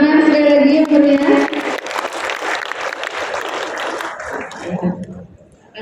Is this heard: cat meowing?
no